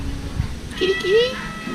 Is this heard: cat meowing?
yes